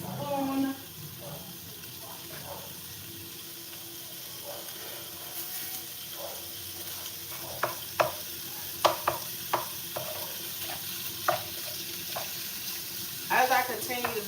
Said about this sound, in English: once the bacon actually gets to cooking, which is like now